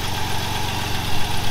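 A 2.6-litre V6 in an Audi 80 B4 runs at a steady idle, a close, even, low mechanical hum with constant rumble and no voices over it.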